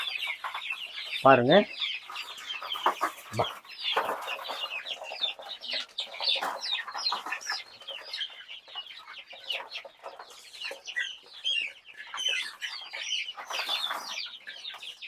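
Young chickens about 45 to 50 days old cluck and chirp steadily in a group, with a brief flap of wings and a short bit of talk over the flock.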